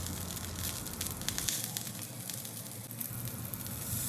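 Boiled baby potato halves, partly boiled French beans and sliced cherry tomatoes sizzle in a grill pan, a steady, even hiss and crackle of frying that runs the whole time without talk.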